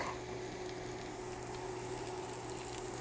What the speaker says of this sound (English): I'm gonna throw in our garlic